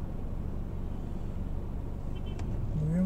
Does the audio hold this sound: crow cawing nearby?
no